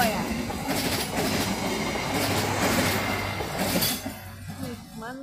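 The Agro Wilis passenger train rushes past at speed with a loud roaring rumble and rhythmic clatter of wheels, a horn tone sounding, then the noise falling away near the end.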